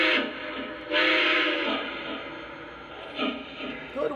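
A model train whistle sounds in a few short blasts over a running engine hum, with people talking at the same time.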